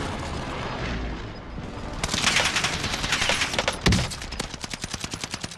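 Rapid bursts of automatic gunfire crackle in a Call of Duty zone match, dense and loud, with a heavy boom partway through and then evenly spaced repeating shots to the end.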